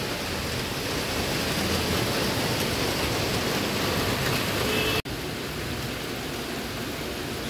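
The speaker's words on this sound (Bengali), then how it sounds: "কেমন বৃষ্টি হচ্ছে, 7:30 বাজে।" Steady evening rain pours in a dense, even broadband hiss throughout, close and constant, with a brief sharp click just past the midpoint.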